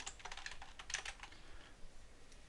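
Quiet, steady typing on a computer keyboard as notes are entered in a trading platform, a continuous run of soft keystrokes with no voices.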